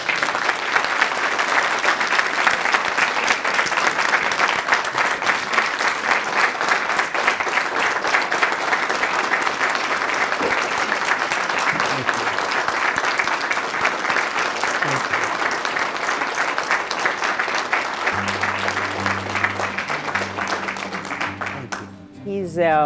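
After a talk on platforms, an audience breaks into sustained, dense applause that continues steadily for about twenty seconds before fading, with a voice coming in near the end.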